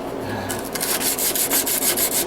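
Sandpaper rubs scratches off a knife bolster in quick repeated strokes, a bright, raspy scraping that starts after a short pause and keeps an even back-and-forth rhythm close up.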